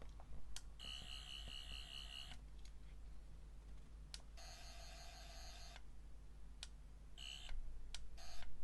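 An 11th Doctor sonic screwdriver toy gives off repeated bursts of shrill, warbling electronic buzzing, each lasting about a second or more, separated by short clicks and pauses, close up and fairly loud.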